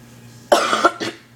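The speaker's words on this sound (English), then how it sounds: "so I might be coughing too" A person coughs once with a sharp, close burst, followed by a smaller hack and the start of another, over a quiet background hum.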